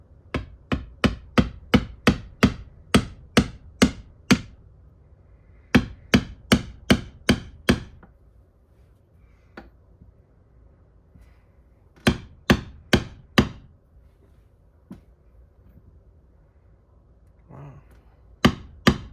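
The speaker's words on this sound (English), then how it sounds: "I can use the same socket from before to pound this on" A part is pounded onto a Kawasaki KE175 motorcycle engine with a socket, bursts of sharp, evenly spaced metallic hammer blows, several rapid series separated by pauses, with occasional single taps, close and loud.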